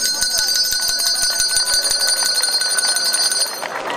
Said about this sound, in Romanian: primul clopoțel îl fac eu acum pentru toată lumea